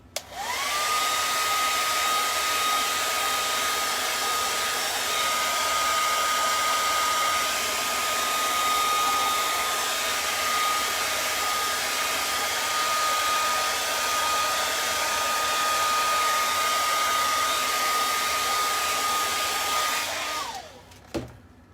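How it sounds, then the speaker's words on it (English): A hair dryer blows on wet craft paint on a suitcase, a loud steady whine and rush that holds for about twenty seconds and then switches off. "I'm going to dry this really quick."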